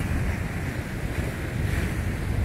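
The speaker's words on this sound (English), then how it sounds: "The waves are starting to come in. The wind's pushing the waves this way." Ocean waves rolling toward shore at sunset while surfers paddle out, driven by a steady onshore wind; continuous broadband surf wash with rumbling low end and wind buffeting the microphone, no voices.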